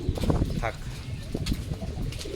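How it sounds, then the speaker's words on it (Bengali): Pigeons coo in a loft, including Jhuppa, Muja and black Moshaldom birds, with soft, low repeated coos close by while someone talks over them. "কবুতর তো অবশ্যই থাকবে"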